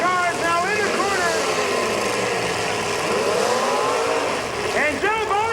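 Demolition derby cars at the Erie County Fair bunch up in a corner, engines loudly revving and surging in overlapping, rising and falling roars that continue without a break.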